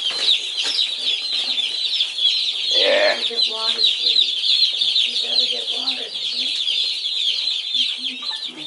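Young meat-bird chicks peep steadily in a box, a dense high chorus of overlapping chirps and clucks, with someone speaking briefly over them.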